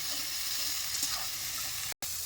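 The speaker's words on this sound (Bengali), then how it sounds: "ভালো করে কষিয়ে নেব মশলাটা" Masala spice paste with a splash of water sizzles steadily in a pan while being stirred, a dense continuous hiss with soft scraping and one brief cut near the end.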